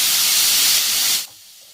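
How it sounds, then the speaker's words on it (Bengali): Potatoes and sliced onions with black cumin seeds hiss loudly in hot mustard oil, a steady broad sizzle that cuts off sharply after about a second to a much quieter simmer. "পেঁয়াজের সাথে আলুগুলোই যাতে ভাজা হবে সেজন্য আলুগুলোই দিয়ে দিলাম।"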